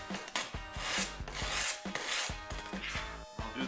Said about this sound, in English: To be sure the epoxy adheres to the metal of the nut, I'm just going to roughen it up using some 100 grit sandpaper.